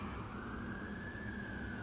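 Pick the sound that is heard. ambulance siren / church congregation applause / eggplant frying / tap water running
ambulance siren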